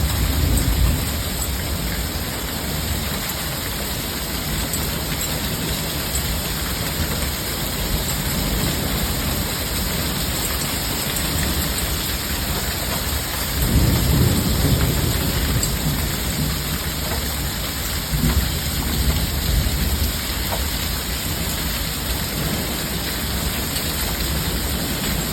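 A night hailstorm with heavy rain, lightning and high wind: a dense, loud, steady roar of rain and hail pounding surfaces for the whole stretch, with low thunder rumbles swelling partway through and no voices.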